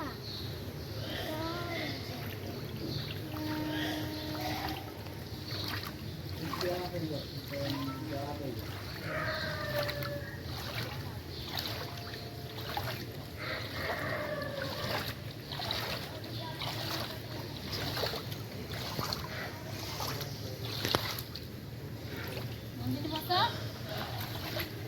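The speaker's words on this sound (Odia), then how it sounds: "ମନ୍ଦିର ମାଙ୍କ ଡଙ୍ଗା ଭସା ହେଉଛି।" Boats are floated on the river at a ghat in Kolkata on a Kartik Purnima morning, with faint water lapping and splashing and a constant low rumble of wind and ambient noise beneath a busy background of crowd voices.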